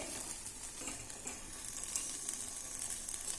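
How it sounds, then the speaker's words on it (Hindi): Brinjal and tomato roasting directly over a gas flame for Bihari litti chokha, giving a soft, steady sizzle and crackle with faint hissing, quiet and close, no talking. "देखिए इस बैगन को इस तरह से हम पलटेंगे और इसे चारों तरफ से सेकना है।"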